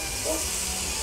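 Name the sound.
onion added to browned pork fat in pan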